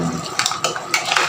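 A utensil scrapes and clinks against a pan as buttered garlic shrimp and mussels are stirred, giving a few quick metallic strokes with a wet, sizzling edge close up.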